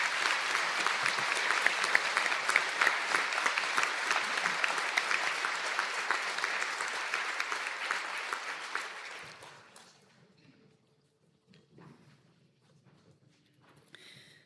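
A large audience applauds graduates at a university conferring ceremony in Donegal, dense steady clapping for about nine seconds before it thins out and fades to near silence, with a few scattered claps near the end.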